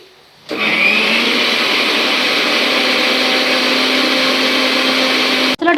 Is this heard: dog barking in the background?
no